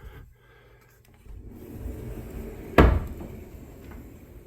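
A door shuts on a newly built shed being fitted and adjusted. A low rumbling shuffle leads up to a single sharp, loud slam, followed by quieter settling noise and no voices.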